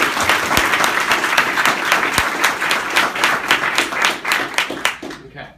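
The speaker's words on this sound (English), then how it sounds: "can I just get a round of applause for this?" Applause from an audience at a real estate sales meeting, a steady patter of many hands clapping with a few louder, sharper claps standing out, fading away at the end.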